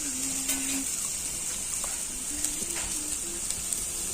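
Mixed vegetables sizzling in a pan with turmeric and cumin powder: a bright, continuous frying hiss with occasional clatter and short tonal scrapes.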